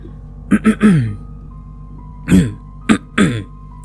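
Someone clears their throat several times in short bursts, two quick pairs of harsh, voiced rasps separated by a pause, close and distinct against a quiet background with a faint hum.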